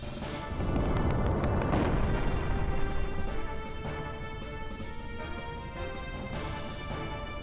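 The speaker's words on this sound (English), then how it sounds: "Whoa, explosions?" Explosions in the Xenogears video game make a dense, loud rumble that swells after the start and holds for several seconds. Game music runs underneath, and no one talks.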